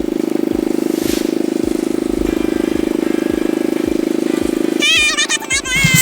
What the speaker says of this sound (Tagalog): na nakikita nyo is umaandar yung sinasakyan namin kasi ang pampot po ito